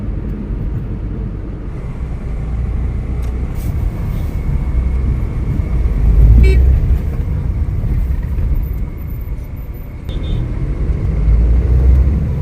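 Heavy morning road traffic with trucks and container lorries, heard as a continuous low rumble that swells and fades, with a brief horn-like tone sounding once near the middle; no talking.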